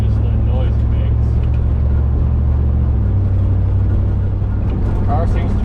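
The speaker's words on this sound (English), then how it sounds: "The car seems to be running pretty well otherwise" A 1970 Chevelle muscle car engine idles with a steady, heavy low rumble throughout, close and loud, with faint higher noise and possible voices in the background.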